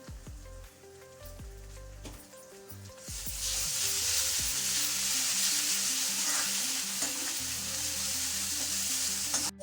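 Garlic-ginger paste dropped into a pan of cooked onions for a spiced sprouted moth bean curry, bringing on a loud, steady sizzle that swells and keeps frying close by, following a few quieter clinks and stirs.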